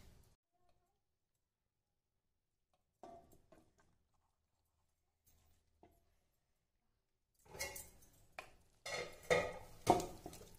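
Chicken curry and rice for a chicken dum biryani are mixed in a pot. After near silence with a few faint taps, a burst of scraping and clattering spoon-on-pot sounds fills the last three seconds.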